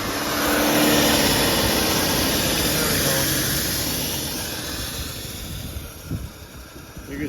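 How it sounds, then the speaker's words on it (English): An AMC Eagle engine running at a high idle makes a loud, broad whooshing roar that slowly fades and grows rougher toward the end, heard close with some background noise. "Got that high idle."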